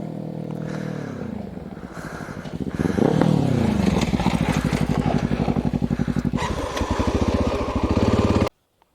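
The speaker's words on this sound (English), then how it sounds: "That bike does so good on those jumps." A Honda XR dirt bike rides over jumps near Badger Lake, its single-cylinder engine revving up and down loudly and close, bursts of throttle rising and falling over several seconds before cutting off abruptly.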